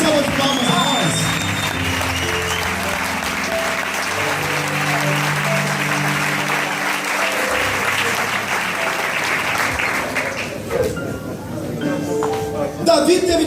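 A church congregation applauds throughout, a steady wash of clapping with some sustained tones and a brief clink, the sound thinning and becoming more scattered near the end.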